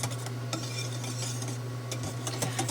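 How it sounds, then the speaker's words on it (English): Banana pudding mixture, thickening as it is whisked for a microwave banana pudding, with steady scraping strokes against the bowl over a constant low hum. The sound is close and moderately loud, with no talking. "I'm going to give it a stir. I can already tell it's starting to thicken up."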